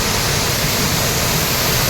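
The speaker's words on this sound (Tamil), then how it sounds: "சுற்றுலா பயணிகளுக்கு ஏற்ற ஒரு அருவி." A steady, loud roar of water falling at a Kodaikanal waterfall where tourists bathe below, with a voice speaking over the constant rush.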